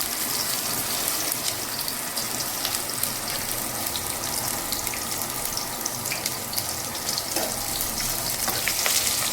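Garlic, ginger and green chillies fry in a pan for palak paneer, giving a loud, dense, unbroken sizzling hiss close by that carries on evenly throughout with no voices.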